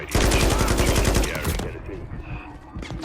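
Gunfire from the Call of Duty: Modern Warfare 3 campaign: a loud burst of rapid automatic fire in the first second and a half, then echoing shots and rumbling battle noise with faint voices underneath.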